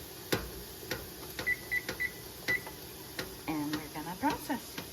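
A series of short electronic beeps as buttons are pressed to set a 10-minute timer on a steam canner, among clicks and light handling noise, with a voice speaking near the end.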